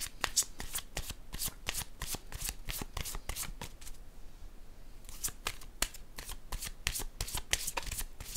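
Oracle cards are riffled and shuffled for a reading in a fast, even rhythm of crisp papery flicks, close and clear, pausing briefly midway before resuming.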